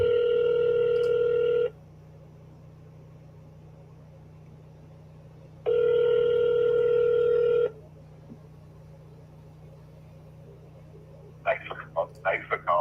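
An outgoing telephone call ringing back twice, two long steady electronic ring tones separated by a silent gap over a low hum, followed by a brief burst of a voice at the end.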